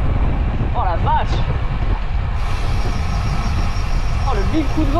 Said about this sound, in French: Oh le big coup de vent là!